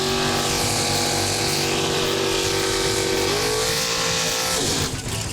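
A drag racing car engine revs loudly and steadily at a drag strip, a dense throaty roar holding high before the pitch shifts and drops near the end, with no talking over it.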